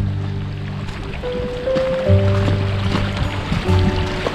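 A clear mountain stream beside a hiking trail in the Grand Canyon, flowing in a steady close wash, with a faint tonal hum running through it.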